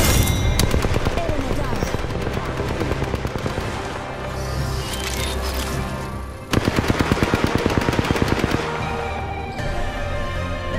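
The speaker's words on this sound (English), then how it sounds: "Listen up, I'm getting shot." Sustained automatic rifle fire from an R-301 carbine in the Apex Legends battle royale game, a loud rapid stream of shots with a brief drop before a denser burst, set against game sound with occasional voice.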